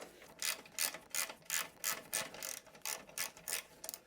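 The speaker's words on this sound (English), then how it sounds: "This is the 13 mil socket. Go ahead and undo these." Ratchet fitted with a 13 mm socket loosening skid plate bolts on a CFMOTO 450MT Ibex motorcycle, about a dozen crisp evenly paced clicking strokes, close-up and clear with no speech.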